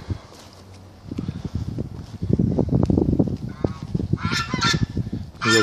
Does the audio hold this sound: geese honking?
yes